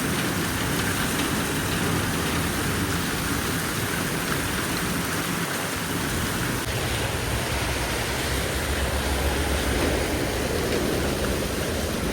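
Steady, dense hiss of rain falling on surfaces, unbroken and fairly loud throughout.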